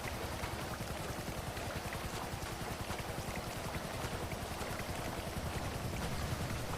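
Sea waves washing and splashing around a character swimming in the ocean in GTA 5, a continuous dense rain-like wash of water, steady and fairly quiet throughout, with no voices.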